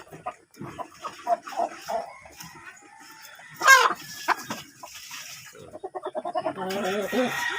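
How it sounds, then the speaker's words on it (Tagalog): Rhode Island heritage chickens cluck and chatter close by while eating moringa leaves, with scattered short calls, one louder squawk midway and a busier run of rapid clucks toward the end. "Kusog kay mukaog kalamunggay ang atong mga heritage chicken. Rhode Island."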